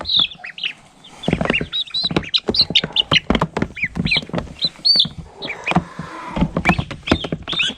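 Ducks and chicks hatched the same day peep and chirp repeatedly, close and lively, in a shop setting, with busy overlapping high calls throughout.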